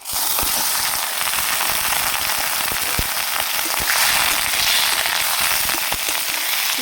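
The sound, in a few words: chicken frying in a wok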